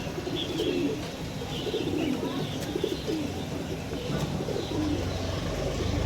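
Domestic Punjabi Malbai pigeons coo in a soft, repeated stream, with steady low cooing rising and falling throughout alongside faint chirps and a constant background hum.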